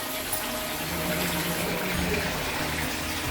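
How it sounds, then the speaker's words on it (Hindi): Natural spring water gushing steadily out from inside a mountain at a Hindu temple pool site, a continuous broadband rush heard close and fairly loud with no talk. "ये वो जगह है जहाँ से पानी निकल रहा है।"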